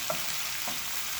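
Big shrimp for Jamaican curry searing in a frying pan, a brief low hiss of hot fat with a couple of soft taps, faint and steady.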